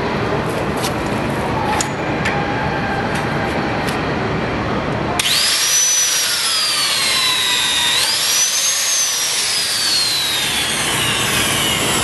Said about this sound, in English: Now we're going to use the Lejeune gun to go ahead and torque down the bolt.